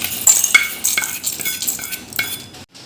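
Fenugreek seeds and dried red chillies are crushed for a raw mango pickle dish, making close, irregular scraping and knocking strokes with small clinks. No talk is heard.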